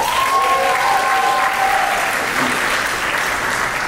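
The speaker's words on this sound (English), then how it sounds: "So she deserves this applause." Steady, full audience applause fills a Diwali dinner celebration at Juniata College, sustained and even throughout, with a brief whistle rising above the clapping early on.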